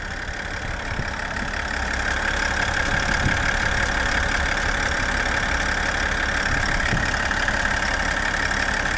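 The 3-liter Duramax turbo diesel in a 2021 Chevrolet Silverado LT idles with the hood open, a steady, loud, close rumble with a faint knocking clatter and a constant whine, rising slightly after the first two seconds.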